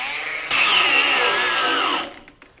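A Bosch 18V brushless 4-1/2" angle grinder, an 8-amp X-Lock model, whines loudly near the mic, rising to full speed, then its pitch sags as it is pressed down under load and bogs before spinning down.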